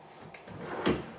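A drawer on a 48-inch bathroom vanity, built to fit around the drain plumbing and without soft-close, is slid shut by hand, giving a short scrape and then a single dull wooden knock as it closes, near and alone.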